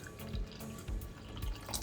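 A little water dripping and trickling into a mixing bowl for Nigerian pancake batter, a few soft splashes about half a second apart, close and quiet with no talk.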